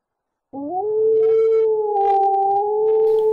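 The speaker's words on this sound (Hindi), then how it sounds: "अरे यार ये कुत्ते क्यों भौंक रहे" At night a dog lets out a single long, drawn-out howl that begins suddenly and holds loud and steady close by, with no barks or voices.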